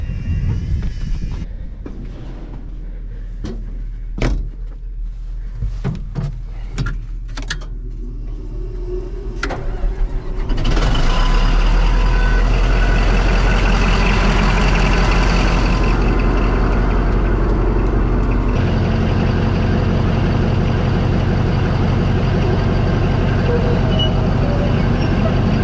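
A D11 bulldozer, a large tracked Caterpillar machine, being driven during a track swap: sharp clanks early on, then a loud, steady diesel engine roar that holds for the rest of the clip.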